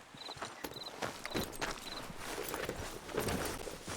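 Horse hooves walking in Red Dead Redemption 2, a series of light, evenly spaced clip-clops heard close up over a soft game ambience, with faint beeping tones in the background.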